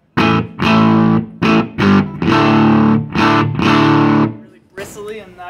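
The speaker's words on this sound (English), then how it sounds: "It gets really dirty if I turn it up a bunch here." Electric guitar through a turned-up amplifier giving a dirty, heavily distorted tone: loud sustained chords in choppy bursts with short gaps, then a final longer ringing chord that fades, played alone with no talking.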